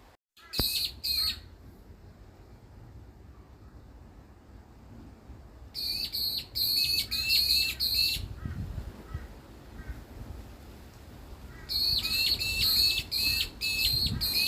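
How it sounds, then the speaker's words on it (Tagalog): Several birds call in repeated bursts of sharp, high chirps, with quiet stretches between the flurries and faint background noise. "Ang daming ibon."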